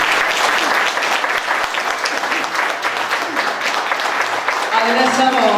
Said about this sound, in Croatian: Hoćemo je pozdraviti velikim pljeskom.